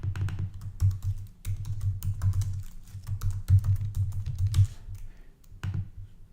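Rapid clattering keystrokes on a computer keyboard as an ad name is typed, close and busy in short bursts with brief pauses, no speech.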